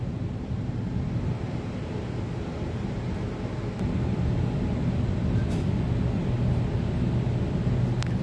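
Sydney Trains T1 line train departing a platform at Gordon, a steady low rumble heard from aboard a stopped train, swelling slightly midway, with faint high clicks and no talk.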